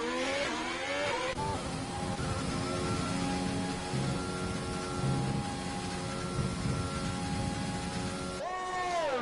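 An F2 race car in a racing video game at the Belgian GP, its engine droning at a steady pit-lane speed limit with whining harmonics after braking down from a high rev, then revving up again near the end.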